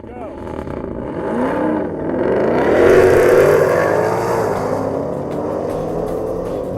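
A Shelby GT500, Dodge Challenger Hellcat Redeye or Chevy Camaro makes a drag racing pass. The engine roar sweeps upward through the gears, builds to a loud peak midway, then gradually eases off.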